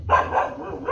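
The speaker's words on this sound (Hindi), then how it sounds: "इधर भी है भौंक रहा।" Another dog barks outdoors in Kolkata, giving a couple of quick close barks and then a third at the end of a short burst.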